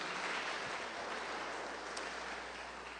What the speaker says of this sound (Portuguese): E dê uma salva de palmas para o Senhor Jesus.